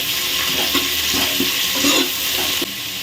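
Onions sizzle in hot oil in a pan for chicken biryani, a steady frying hiss broken by repeated scraping strokes of a spoon stirring them.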